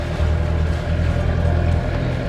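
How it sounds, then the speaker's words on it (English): A low, steady boat engine idle rumbles close by while warming up, with a constant hum and faint vibration. "Okay, engine warming up."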